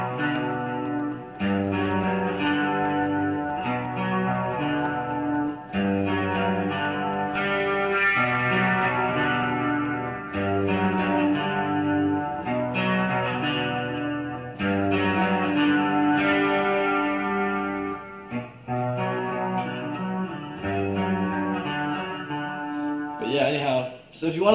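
A guitar riff with an added open G third-string note rings out through effects such as distortion and chorus, repeating phrases of sustained chords in a steady rhythm, loud and close, with a brief noisy flourish at the end.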